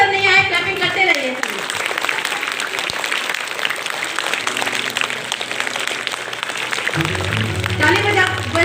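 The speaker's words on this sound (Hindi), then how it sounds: "पर जब तक सर नहीं आए क्लैपिंग करते रहिए।" An audience at a school stage ceremony claps continuously, a dense, steady wash of applause that stays loud throughout, with a voice speaking over it near the start and a low hum entering toward the end.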